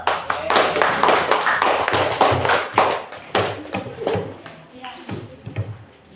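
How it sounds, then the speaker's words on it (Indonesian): An audience in a classroom claps for a group presentation, dense close applause that thins out toward the end, with voices talking under it. "Kasih aplaus dulu."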